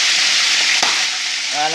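Chicken pieces frying in a hot pan for spaghetti, a loud dense sizzle with occasional sharp pops of spattering fat, close and continuous.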